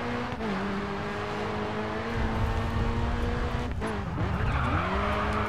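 Racing video game car engine drones steadily with a sustained tone that dips in pitch twice, briefly scraping or skidding as the car clips the wall, loud and continuous without talk.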